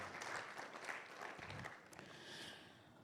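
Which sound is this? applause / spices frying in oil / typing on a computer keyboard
applause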